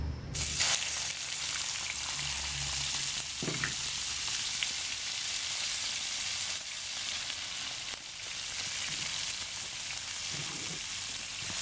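A whole cod fries in oil in a pan with a steady, close hiss and crackle that runs continuously from start to finish, with no voices over it.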